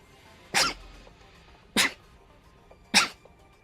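A person sneezes three times in a row, each a short sharp burst about a second apart, close and clear against a quiet background.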